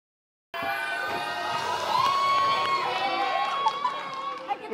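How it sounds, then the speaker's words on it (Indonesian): A studio audience on an Indonesian morning TV show cheers and applauds a guest, a loud, steady mass of clapping and shouting voices that starts abruptly and holds throughout, with some tonal sounds running through it. "Tepuk tangan"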